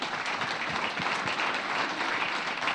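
Conference audience at an Icelandic event applauding steadily for nearly three seconds, a dense wash of clapping with no voices over it.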